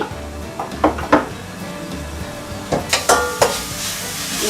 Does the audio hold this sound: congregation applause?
no